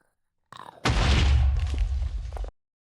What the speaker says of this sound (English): they're the explosions that I've been hearing